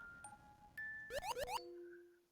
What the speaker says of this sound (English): they do contain cat bells when you defeat them